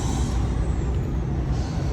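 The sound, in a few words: air escaping from truck's air pressure system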